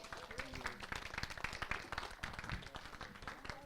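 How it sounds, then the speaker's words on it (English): A crowd applauds panelists and a moderator at an activism club tour event in Baltimore, with brisk overlapping claps and some voices mixed in, steady and fairly close throughout. "can we give the panelists and our amazing moderator a round of applause"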